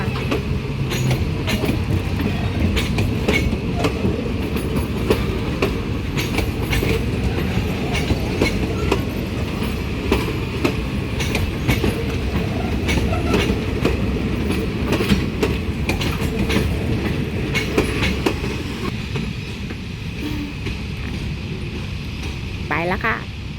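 A Thai ordinary passenger train, with a diesel locomotive, rolls steadily along the rails with a continuous rumble and rhythmic clatter of wheels, loud and close throughout, fading slightly near the end.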